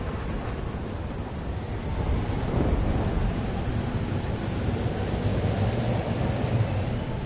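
A thunderstorm rumbles in the video game Life is Strange Double Exposure, with steady heavy rain and a deep roll of thunder swelling partway through, loud and continuous, with no voices.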